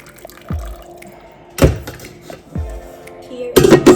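Pho broth is strained, with liquid pouring and splashing in short bursts, close drips and a few hollow thunks of the pot or strainer between pours.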